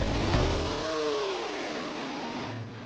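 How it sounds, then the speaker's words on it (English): A Volkswagen Passat engine with 170,000 kilometres on it runs with severe vibration, revving up briefly then settling into a steady, rough mid-pitched drone close by. "The issue is that the check engine light is on. It's also accompanied by severe engine vibration."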